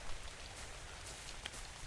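Steady rain falls in the survival video game Ark: Survival Evolved, a soft, even hiss of drops with a brief brighter patter near the end, fairly faint and with no voices.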